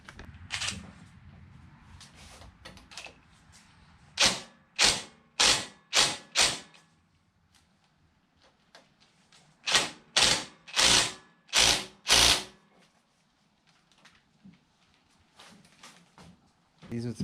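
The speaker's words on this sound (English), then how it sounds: "Let's go ahead and remove these 2 screws." Screws being backed out of a Kubota tractor's side panel, with two bursts of rapid ratcheting clicks, each a quick run of sharp mechanical ticks, close and alone amid quiet shop ambience.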